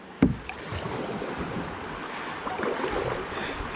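A canoe being paddled through a small rapid in the Hérault gorges, with a sharp splash at the start followed by continuous rushing, churning river water close by and wind noise on the microphone.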